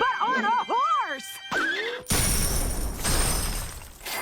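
A cartoon horse whinnies in a high, warbling neigh, followed by a loud crashing burst of noise.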